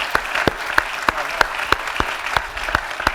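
Applause from an event audience at a mayors' forum on city issues, sparse and uneven claps standing out one by one, moderately loud in a large hall.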